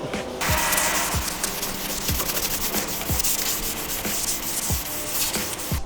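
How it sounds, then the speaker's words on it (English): Repetitive scraping of sanding on the underside of a boat hull, steady strokes about once a second, close and continuous with no talking. "you're just going to sand away."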